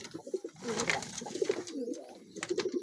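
Sirazi pigeons, a male and a female, coo in repeated low throaty bursts close to the microphone, with soft rustling between calls.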